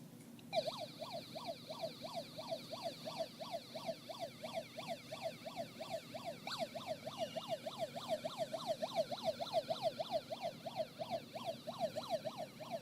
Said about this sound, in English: slide the switch to the right to turn the circuit on and hear the siren